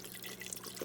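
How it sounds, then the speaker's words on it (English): Swanson's chicken broth, 33% less sodium, poured from a big box into a pot on a home stove, a steady faint liquid splash and trickle over low background hum. "I'm using the Swanson's chicken broth, 33 less sodium. Now I'm going to pour that in"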